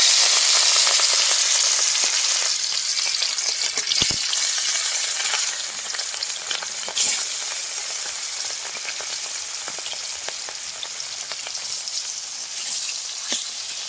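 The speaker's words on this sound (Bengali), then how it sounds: "এদিকে আমি এখন মাছগুলো গরম তেলে দিয়ে দিই।" Fish sizzling and frying in hot oil in a rural-style home kitchen, a dense, steady crackling hiss that stays loud throughout with occasional sharper pops, no voices.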